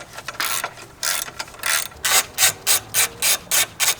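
A ratchet with a 13mm socket loosens the strut bar fasteners on a BMW S58 engine: irregular clicking strokes at first, then a fast, even run of about eight loud, close ratcheting bursts.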